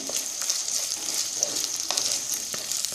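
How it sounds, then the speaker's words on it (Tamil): Thinly sliced onions fry in a pan for a chapati paneer masala gravy, making a bright, continuous sizzle with small crackles and a few soft stirring scrapes, heard close and alone. "வெங்காயம் போட்டுக்கணும். வெங்காயமும் நீட்டாக கட் பண்ணியிருக்கேன் நான்."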